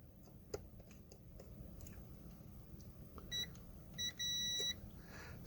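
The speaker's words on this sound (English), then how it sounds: "Let's go into beeper mode." A multimeter set to continuity mode gives short, high electronic beeps during testing of a small electronics kit, a few brief tones followed by a longer sustained beep, faint against a quiet room hum.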